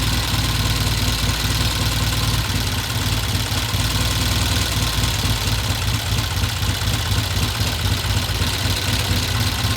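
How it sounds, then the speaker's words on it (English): A 1969 Norton motorcycle engine idles at about 900 RPM after an idle adjustment, producing a steady, close, loud mechanical thrum with an even pulsing rhythm throughout. "that's a beautiful 900 RPM idle"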